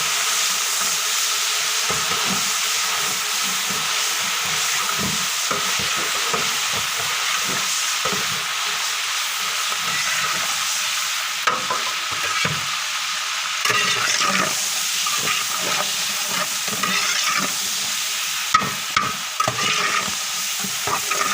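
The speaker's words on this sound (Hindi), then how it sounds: "अब इसमें टमाटर और साथ ही मिर्च डालेंगे।" Tomatoes and chilies hit browned onions in a hot pot for beef yakhni pulao, giving a steady loud sizzle with repeated scraping stirs throughout and no voices.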